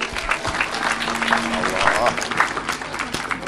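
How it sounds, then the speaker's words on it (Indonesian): An audience at a Javanese religious gathering claps in honour of Bu Sumiati, a lively burst of applause that swells and fades over a few seconds, with voices mixed in. "Tepuk tangan tuh Bu Sumiati"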